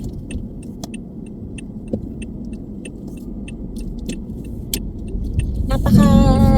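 A truck passes on a road while heard from inside a moving car, a steady broadband rumble of traffic that swells louder toward the end as the vehicle draws near.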